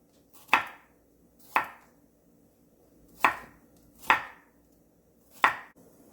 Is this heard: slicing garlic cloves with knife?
yes